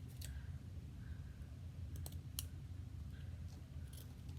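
Scissors snip ribbon in a few quick, close, crisp cuts against a quiet low hum, with no talking.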